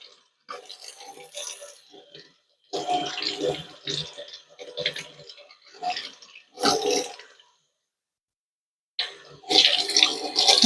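Running cold tap water splashes in irregular bursts, stopping and starting as a Cornish hen is rinsed under it, close by.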